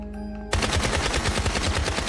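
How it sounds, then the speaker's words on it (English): A quiet hum gives way to sudden, loud automatic gunfire in a film, rapid bursts hammering on steadily for the rest of the clip. "Emma gets eyes on Crown and his men and greets them with gunfire"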